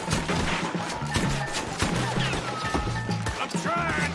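Rapid, scattered gunshots crack during a wagon shootout in Red Dead Redemption 2, overlapping bursts with clattering impacts and brief shouted voices through the chaos.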